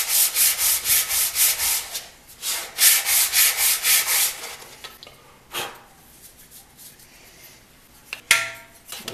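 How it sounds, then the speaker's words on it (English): Wooden intarsia pieces for a keepsake box are lapped flat on sandpaper, giving repeated rhythmic rasping strokes, close and loud, with a short pause and a few faint scrapes before a final burst of rubbing. "So I take these and I lap them flat."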